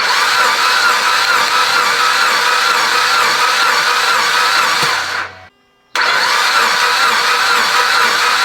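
Mitsubishi Evo 10 engine being turned over on a lift, a loud, steady whirring drone that cuts out abruptly for a moment, then resumes at full strength.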